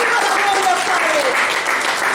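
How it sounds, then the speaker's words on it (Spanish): A church congregation applauds in a steady, dense wash of clapping that fills the whole moment, with a faint sustained voice or tone drifting through underneath. "Dale un aplauso al Señor Jesús."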